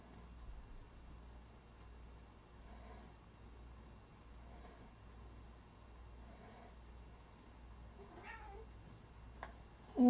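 A cat meows a few times in a quiet indoor room during a paper clay pumpkin craft session, faint and spaced out over a low background hum, with a brief louder knock near the end.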